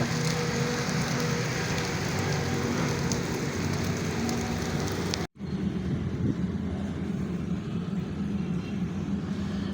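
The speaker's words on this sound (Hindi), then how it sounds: "ये देखें जी, ये देखें आपको नज़र आ रहा होगा कैसे बारिश है।" Steady broadband hiss of rain falling on a rooftop in the evening, constant throughout with a brief dropout midway, no voices.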